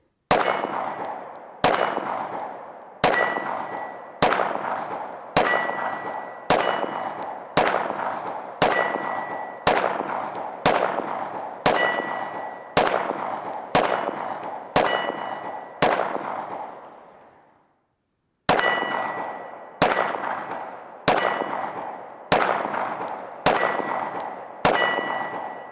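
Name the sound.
shots from ported M&P 2.0 Competitor pistol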